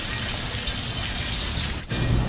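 Heavy pouring rain in an alley near Charleston Market in Charleston, South Carolina, a dense continuous hiss with splashing, briefly dipping near the end, no talk.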